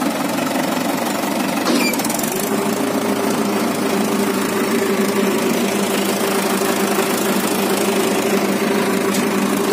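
A tractor engine runs steadily and loudly in fourth gear, a continuous rumbling drone with a brief mechanical clatter near the start, no voices present.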